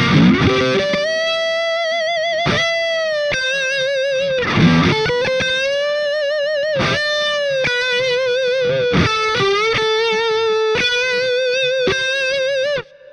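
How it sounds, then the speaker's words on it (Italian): A PRS electric guitar runs through maximum distortion, playing sustained, singing lead notes with vibrato and bends, broken by sharp pick attacks. It is loud and close, with no talking, and ends on a sudden cutoff. "mettiamo il massimo della distorsione e vediamo dove che arriva"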